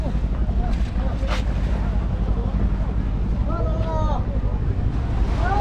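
Fishing trawler at the shore on a windy coast near Mandarmani, with steady wind rumble and surf over the microphone, broken by brief bird-like chirps and faint background voices throughout.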